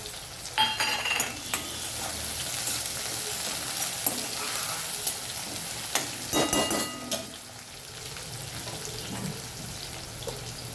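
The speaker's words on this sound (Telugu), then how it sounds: "ఉల్లిగడ్డ వేసుకోవాలి" Chopped onions fry in a pan for a red amaranth and tomato curry, giving a continuous close sizzle with scattered metallic clinks and scrapes from stirring throughout, no voices.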